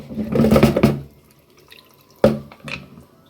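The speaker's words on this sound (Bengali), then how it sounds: "এখন একটু জল দিয়ে ঢাকা দিয়ে দেবো" Water poured into a pressure cooker holding meat seasoned with salt, turmeric and chilli powder, a close splashing burst followed after a pause by a couple of shorter splashes and drips, no talking.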